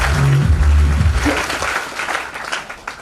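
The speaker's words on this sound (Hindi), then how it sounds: "तालियां करें" Audience applause breaks out at a business training seminar to welcome a new member. It swells loud right after a short burst of a voice, then settles into a steady wash of clapping.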